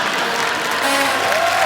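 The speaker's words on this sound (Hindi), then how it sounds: "एक बार जोरदार तालियां मिस्टर शाहरुख खान एंड आलिया भट्ट के लिए।" Studio audience applause on a Hindi comedy show set, a steady wash of clapping and crowd noise that fills the whole short stretch at even loudness, with no talk over it.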